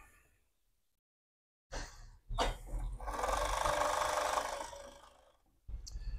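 An overlocker sewing machine with a safety stitch runs while stitching drawstring bags, a steady whirring burst lasting a few seconds with short starts and stops around it, close and fairly loud.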